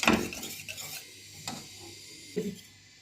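Spoon stirring homemade ketchup as it thickens in a pot: a few close, distinct scraping strokes against the pan at irregular intervals, with quiet bubbling between them and no talking.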